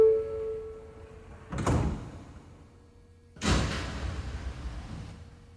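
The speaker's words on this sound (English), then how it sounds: "Stand clear of the closing doors" NYC subway train doors slide shut twice in succession, each a loud rumbling thunk that fades off, after a brief electronic tone at the start, with no talk.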